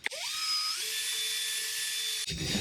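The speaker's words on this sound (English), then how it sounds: "you guys can buff your taillights and headlights" Power buffer whirring steadily on a truck taillight after cleaner is applied, a continuous high motor whine that shifts pitch briefly near the start, holds close and loud, then cuts off abruptly near the end.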